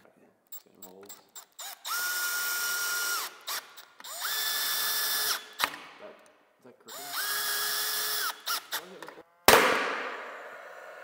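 Power drill driving pocket hole screws into a railing section built from old power line poles, three sustained whirring bursts of a few seconds each with short clicks between, close and loud, followed by a sharp impact sound.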